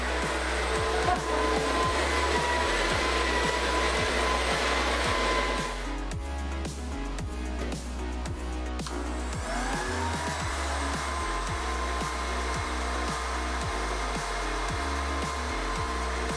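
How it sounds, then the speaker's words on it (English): A loud, continuous blast of blowing air from a giant hair dryer roars throughout, with a steady motor hum and some rattling shifts partway through. "So let's try our giant hairdryer."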